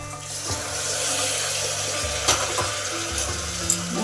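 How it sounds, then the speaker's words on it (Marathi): Heated water poured into a pan of brinjal and field-bean curry in a Maharashtrian village kitchen, a steady watery pour with a faint sizzle and a few utensil knocks, close and continuous with no talk. "थोडंसं पाणी टाकून घ्यायचं आपण जे की तापवलेलं पाणी टाकायचं"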